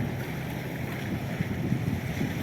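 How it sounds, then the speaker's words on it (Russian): Steady wind gusting outdoors on a riverbank during a fishing trip near Darkylakh, Yakutsk, a continuous broadband rush with low buffeting against the microphone and no voices. "Ветер что-то начинается опять."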